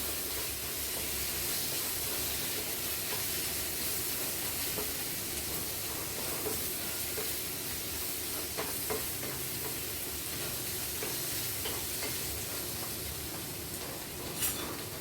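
Tomatoes and curry leaves sizzle steadily in a hot pan, with a continuous frying hiss and faint scraping as the mixture is stirred, close and unbroken, with no talking.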